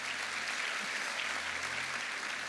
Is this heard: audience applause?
yes